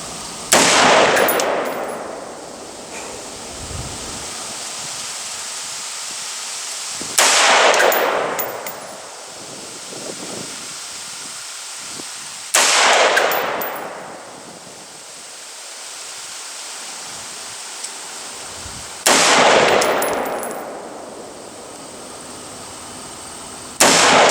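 Four loud, sharp rifle reports from a BCM Jack carbine firing PMC .223 ammunition, spaced several seconds apart, each ringing out with a long decaying echo across an outdoor range, no talking.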